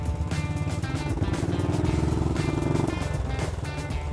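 An old German motorcycle is ridden hard, its engine loud and close with a rasping, revving exhaust that climbs in pitch, then drops as it shifts gears.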